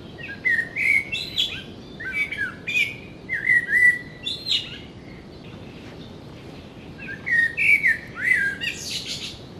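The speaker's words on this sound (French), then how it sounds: "Le merle est l'un des premiers oiseaux à chanter le matin" A common blackbird sings in a garden, delivering several short fluting, warbling phrases separated by pauses, clear and moderately close over a soft background hiss.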